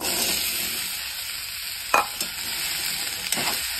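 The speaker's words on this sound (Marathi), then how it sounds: "तर आपल्याला हे दोडका भाजून घ्यायचा" Ridge gourd sizzles in a little oil in a pan, a steady hiss with a few stirring scrapes and clicks, close and alone.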